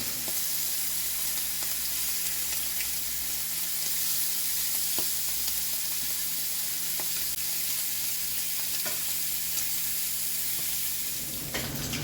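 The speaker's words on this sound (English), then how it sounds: "Peggy's back there frying up the bacon." Bacon frying in a home kitchen gives a steady, dense sizzle and crackle that holds level throughout, with occasional faint clinks and no talking.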